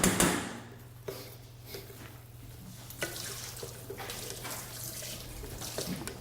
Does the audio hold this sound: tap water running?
yes